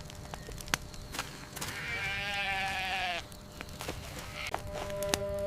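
Sheep and goats bleat in a steady, drawn-out call that rises out of a rustling farmyard background, with scattered sharp knocks and footsteps nearby before and after.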